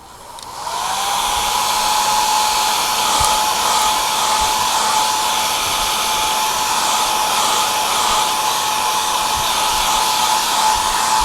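Hair dryer drying a watercolour wash on paper switches on and then blows loud and steady with a constant whine, close by and alone.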